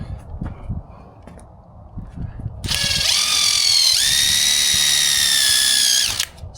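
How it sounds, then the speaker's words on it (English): A power drill bores pilot holes for screws in the wood of a two-foot mini ramp, giving one loud, steady whine of about three seconds after some low handling noise and brief talk. "I'm just gonna pre-drill these holes right here"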